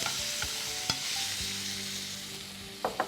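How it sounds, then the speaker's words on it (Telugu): Tomatoes fry in a hot pan of tempered spices, a steady sizzle broken by a few sharp scrapes and clinks of a spoon stirring nearby. "ఇందులో టొమాటోలు వేసి వేగించుకుందాం"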